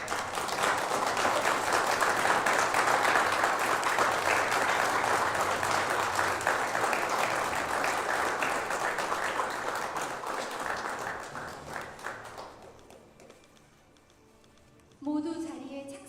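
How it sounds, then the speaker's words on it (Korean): An audience at a Korea-Chile business round event claps steadily and fairly loudly before fading out, followed by a brief voice. "박수 한번 부탁드립니다"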